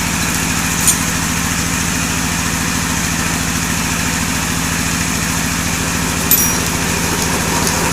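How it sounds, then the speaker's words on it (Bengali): A single-cylinder diesel engine runs at a steady idle, a loud, rhythmic low chugging that holds evenly throughout, with a couple of faint clicks on top and no voices. "যাক ইঞ্জিনটা স্টার্ট দিয়ে দেখি পরিস্থিতি কী হয়।"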